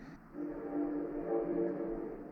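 A passing train sounds a long, steady horn at moderate distance, heard outdoors near a woodturning setup, the tone held for about two seconds with no talk.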